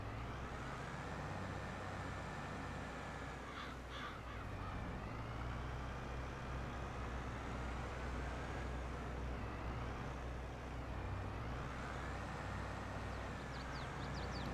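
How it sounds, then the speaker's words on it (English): A very big tractor in Farming Simulator 22, its engine idling with a low, steady rumble throughout, fairly quiet, with faint higher chirps and caw-like sounds above it. "Very big tractor."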